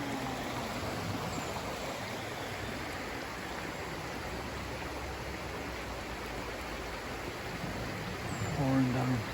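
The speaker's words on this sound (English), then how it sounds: "Comes into this river." A river at Ebchester flows with a steady broadband rush that holds the whole time, with a brief louder swell near the end.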